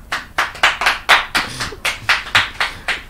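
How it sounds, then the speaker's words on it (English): A dozen or so crisp, separate hand claps in a loose steady rhythm, close and fairly loud, as though from a small audience clapping in time. "they're clapping."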